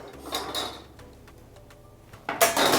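Metal baking spatulas, including an offset spatula, handled close by: a few light metallic clinks and rattles against a quiet background, ending in a burst of louder jangling.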